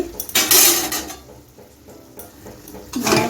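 Fried potatoes are stirred in a pot for a bottle gourd kofta curry, with a spoon clanking and scraping against metal in a few loud bursts, softer scrapes between them, and a faint sizzle underneath.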